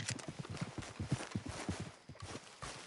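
Horse hooves clip-clopping in Red Dead Redemption 2, a quick, even run of close, distinct thuds at a walking pace, fairly faint, with a brief lull before the steps resume.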